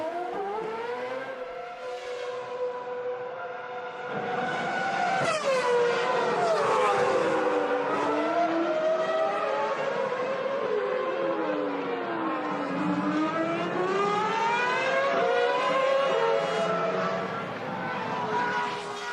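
Formula 1 race cars at the Nurburgring during the 2006 European Grand Prix: high engine notes rise and fall continuously as cars pass, loud and sustained, mixed with broadcast crowd and commentary-level background.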